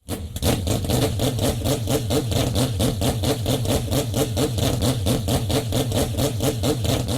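A four-rotor Mazda rotary engine in the 1991 Le Mans-winning race car idles in the Roblox game Midnight Chasers, a loud, close, choppy burble pulsing rapidly and evenly throughout with no talk.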